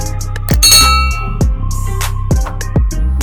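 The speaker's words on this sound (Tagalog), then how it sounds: "i-hit ang notification bell para updated ka sa mga video tulad nito." A notification bell ding sound effect: a bright, metallic bell rings several times in quick succession, each strike clanging loudly and ringing on with a decaying tone, with no voices.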